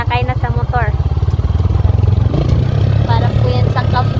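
A motorcycle engine idles and putters close by with a steady low rumble, heard under the voices of people talking throughout.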